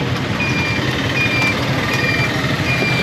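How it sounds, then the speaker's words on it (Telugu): A Honda indicator buzzer fitted on a TVS Deluxe auto rickshaw beeps at a steady regular rhythm over the low rumble of the idling engine. "సో ఇండికేటర్ బజర్ కూడా అయితే ఫిట్ చేసా, హోండా కంపెనీది."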